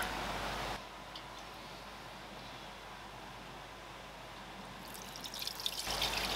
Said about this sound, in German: und gieße die restliche Brühe ab.